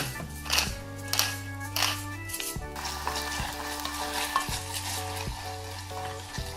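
Pork frying in a pot with green onions and pepper, a steady close sizzle under a bright, sustained tone, with occasional scraping stirs and light taps.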